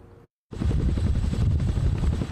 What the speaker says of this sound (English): As soon as one Chinook helicopter takes off, another one is right on its tail.